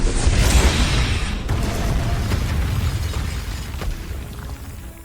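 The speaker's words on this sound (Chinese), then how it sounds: "遥远星域发生的一次超新星爆炸" A deep, rumbling supernova explosion effect from an animated sci-fi series: a loud blast that opens with a heavy boom, then settles into a long, roaring rumble that slowly fades over several seconds, with no voices.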